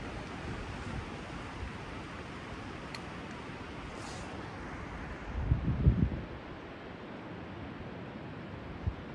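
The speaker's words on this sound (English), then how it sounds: "Gusts that come and go. It's not a steady wind." Broadband wind roar blows steadily on a bluff's edge, swelling into a stronger low gust midway before easing back, with no voices.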